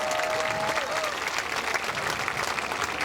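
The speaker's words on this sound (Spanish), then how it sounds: "Fuerte el aplauso para Isabel Pacarati." A studio audience on a television show applauds steadily, with a dense, continuous patter of clapping throughout and a faint voice underneath at the start.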